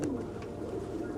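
A homing pigeon coos softly close by, a low throaty murmur running through the moment, with a brief flutter-like sound near the start and light background noise.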